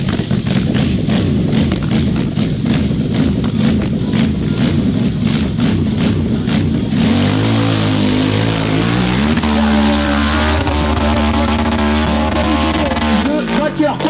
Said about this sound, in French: Le moteur qui tourne